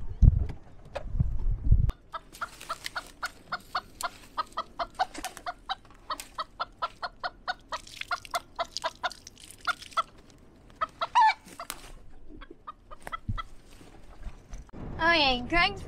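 Chickens cluck and a rooster calls in a busy run of sharp, repeated clucks, close by, with rustling at the start and a crowing call near the end.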